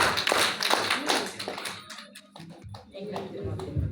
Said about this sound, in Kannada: ಮೇಡಮ್ಗೆ ಒಂದು ದೊಡ್ಡ ಚಪ್ಪಾಳೆ